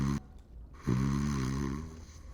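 A sleeping character snores in the Dragon Age Origins video game: one long, drawn-out, rasping snore rises after a brief quiet gap and holds loud and close before slowly fading.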